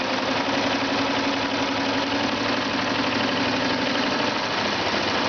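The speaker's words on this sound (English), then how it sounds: "I'm going to raise my presser foot, put my black square all the way in, and then just start serging" Serger sewing machine running steadily while serging a knit quilt block, a continuous even mechanical whir and rapid stitching hum, no voices.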